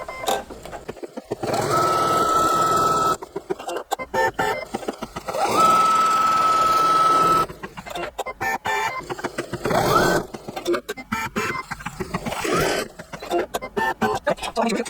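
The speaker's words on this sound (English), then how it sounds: "I'm gonna put my foot down and go ahead and stitch that out" A home embroidery machine stitches out a placement line for triangle appliqué hearts in a 5x7 hoop, its loud rapid mechanical whir running in long bursts with brief pauses between runs.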